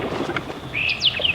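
Eastern kingbird calling from marsh trees beside a slough: faint chips lead into a sharp, high, sputtering buzzy call near the end, close and clear without talk.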